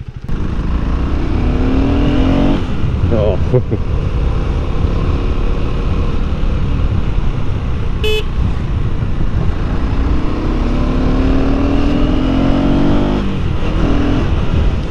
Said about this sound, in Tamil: அப்படியே எக்ஸாஸ்ட் நோட்டும் கேட்டுக்கோங்க.